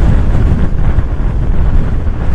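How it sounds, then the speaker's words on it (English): Strong, cold coastal wind buffets the microphone in a constant loud low rumble, with waves faintly under it and no talk. "it is so windy and cold"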